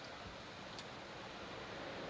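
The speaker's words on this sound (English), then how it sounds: "let me know how loud the ocean is." Ocean waves in San Francisco heard through an open window, a steady broad wash of surf noise with no distinct breaks and no talk.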